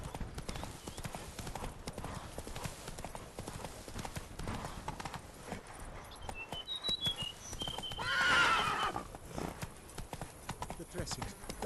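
Horse in The Witcher 3 video game trotting with steady clip-clop hooves, then a loud whinny near the middle, with talking over parts of it.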